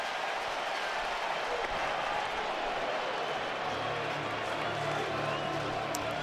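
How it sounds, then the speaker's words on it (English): The crowd at Wrigley Field roars and applauds throughout, a dense, sustained wash of cheering and clapping during a Brewers–Cubs MLB game, with broadcast commentary faintly mixed in. "Boy, this crowd is electric today. They are spot on their feet again."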